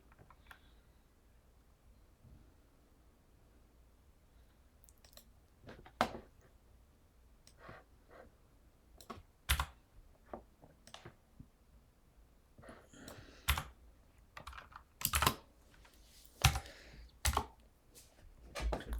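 Go code being typed on a computer keyboard, with scattered bursts of close, crisp key clicks that grow busier toward the end over a quiet room.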